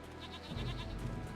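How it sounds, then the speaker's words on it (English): Goats bleat a few times in quick succession in the video game Jade Empire, fairly close, with a low rumbling ambience underneath. "Goats."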